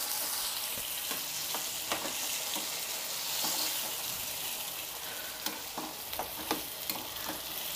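Eggplant bajji curry being stirred in a hot pan, a steady sizzle broken by soft scraping and tapping of the spoon against the pan, close and fairly quiet, with no voices.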